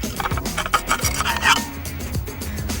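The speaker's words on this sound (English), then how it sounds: "grab your bolster or your scraper. Just get these little bits of cement off." A scraper or bolster rasping small bits of cement off a rendered letterbox, several quick, close scraping strokes in an uneven rhythm with no talk.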